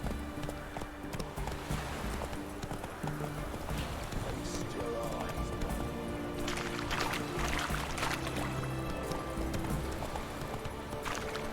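Horse galloping in The Witcher 3, rapid rhythmic clip-clop hoofbeats running steadily throughout over game ambience, with a voice speaking briefly.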